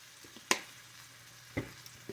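Top cap sirloin steak sizzles in a cast iron pan, a faint steady hiss broken by a few sharp clicks and taps.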